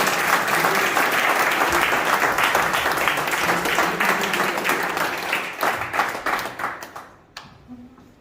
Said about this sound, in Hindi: दोनों हाथ उठाकर जोरदार तालियों के साथ।